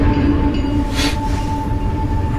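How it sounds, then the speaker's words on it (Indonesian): A train rolling into a station, a loud continuous rumble of wheels on rails with a sustained tonal hum and a brief hiss of air or squeal midway, close by and without talk. "Tak lama lagi kereta akan tiba di stasiun."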